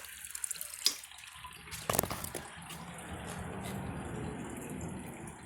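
A 1992 Lamosa Sahara toilet converted to a washdown flushes, with a couple of sharp clunks followed by rushing, gurgling water that builds and holds steady at close range.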